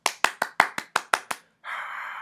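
Eight sharp, evenly spaced hand claps from a single person as a round of applause, followed by a sustained bright shimmering tone.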